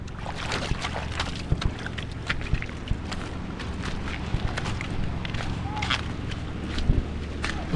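Water laps and splashes around a small wooden boat, with scattered knocks and creaks against a quiet outdoor background.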